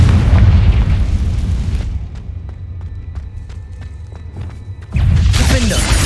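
A Confringo blasting spell from the Hogwarts Legacy video game fires off a loud, booming burst. A heavy roar opens the sound, a quieter crackling stretch follows, and a second loud blast lands near the end.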